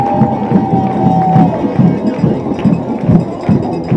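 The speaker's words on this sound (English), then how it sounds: "Man, the crowd is into it tonight with it being our homecoming night as well" Crowd noise at a packed homecoming-night high school football game on Ivan Croak Field, Pirates against Lumberton: a dense, steady murmur with regular thumping beats and a short, high whistle-like tone near the start.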